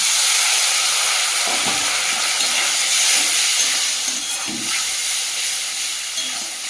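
Water is poured into a hot pan of meat for a village-style curry, setting off a loud, steady steam hiss that carries on for several seconds. A few soft clinks sound beneath the hiss.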